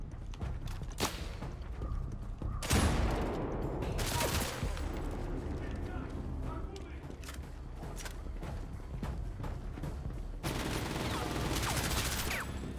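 Gunfire in the video game CrossfireX, heard as scattered close gunshots and bursts of rapid fire mixed with mechanical clatter and dense in-game action noise.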